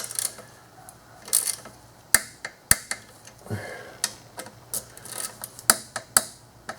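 A torque wrench tightens the bolts on a plastic intake manifold of a 2009–2019 Dodge Ram 5.7L Hemi in an X pattern, giving sharp, irregular ratchet clicks in short bursts close to the listener.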